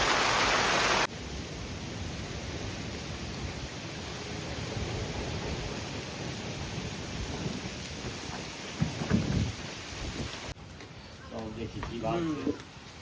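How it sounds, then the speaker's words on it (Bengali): Steady rain pours over a village fishing spot where nets and traps are set, a dense continuous hiss throughout with a few brief louder splashes or knocks near the end. "দেখুন কি পরিমাণ বৃষ্টি এসছে"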